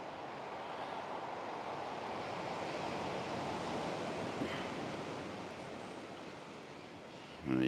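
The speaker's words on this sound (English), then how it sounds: "there is some waves coming over the jetty today" Waves wash steadily onto a beach beside a jetty, a soft continuous surf roar with light wind and no talking.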